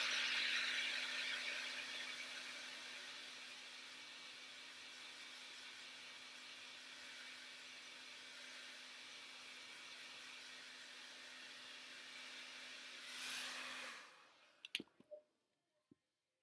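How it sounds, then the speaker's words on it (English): A hair dryer drones steadily for about fourteen seconds with a high whine, drying glitter-coated shoes, then cuts off, followed by a few sharp clicks and handling knocks. "Take my handy dandy blow dryer here."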